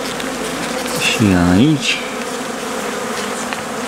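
Honey bees at a hive in February, emerging in the sun: a steady, dense buzzing close by, with a brief louder swell of wingbeats and a short spoken remark.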